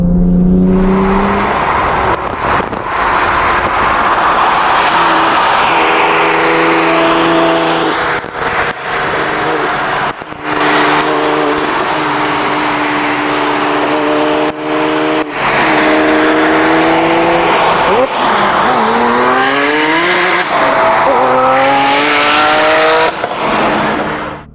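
A 1000 hp Porsche 911 996 GT2 accelerates hard in repeated loud, close bursts, the engine climbing through gears with rising revs, brief lifts between shifts and some tire squeal.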